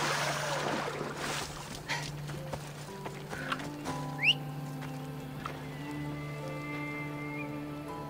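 Horse hooves clip-clopping and splashing through water in the video game Assassin's Creed Odyssey, with faint background music tones and small sound effects, no speech.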